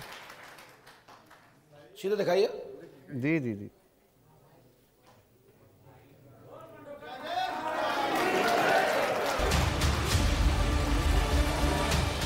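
Audience applause rising from about seven seconds and swelling into sustained, loud clapping at a religious dham gathering, following spoken exchanges in Hindi.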